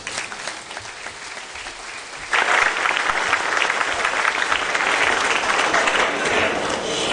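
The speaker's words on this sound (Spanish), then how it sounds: "Por favor, un aplauso." Applause rises at a tribute event honouring a Conservative Party president in Huila, a dense crowd clapping that jumps noticeably louder partway through and then stays full and sustained.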